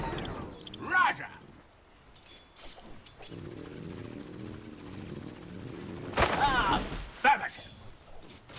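A rocket barrage in a video game lands as scattered heavy thuds and bursts: one early, then a loud cluster near the end over a low rumbling bed.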